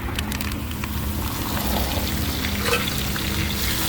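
Crab and fish deep-frying in hot oil at a seaside street food stall at a fishing pier, a steady dense crackle and sizzle close up, continuous throughout.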